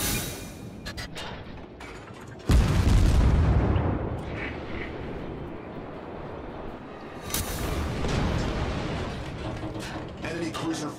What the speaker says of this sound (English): Oop, I'm getting shot at.